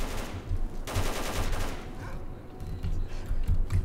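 Gunfire from S.T.A.L.K.E.R.: Call of Pripyat, with several bursts of shots ringing out at a distance through the clip. The bursts are moderately loud over a steady low ambient rumble.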